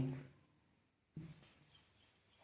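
A sentence is written out during a grammar lesson, a faint, brief scratching and rubbing of writing strokes close by, with a short pause between strokes.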